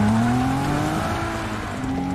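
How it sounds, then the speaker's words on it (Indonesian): A car in a Jack Reacher film scene reverses at high speed, its engine whining steadily with a rising tone and faint tire noise, loud and continuous with no talking. "Ia memundurkan mobil yang dikendarainya dengan kecepatan tinggi."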